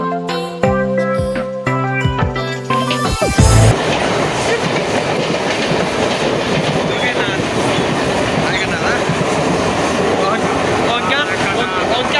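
A train rolls loudly through Andheri station in Mumbai, wheels clattering and squealing steadily after a brief burst of musical tones at the start.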